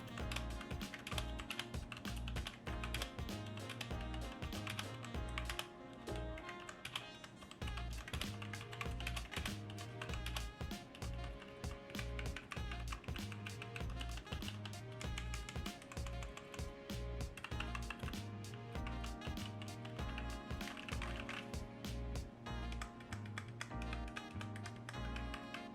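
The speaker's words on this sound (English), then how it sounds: "this is a Dierya type test with the rubber O-rings" Continuous, fast typing on a Dierya 60% mechanical keyboard fitted with rubber O-rings under the keycaps, heard close up as a dense stream of muted clacks with occasional heavier strokes, running alone for about twenty-five seconds.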